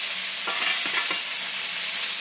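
Pumpkin pieces frying in a little oil give a close, steady sizzling hiss, with a few soft stirring scrapes in the middle.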